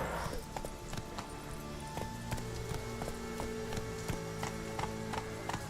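Hooves clip-clop in a steady, brisk rhythm as a horse gallops in The Witcher 3 video game, over sustained in-game music tones.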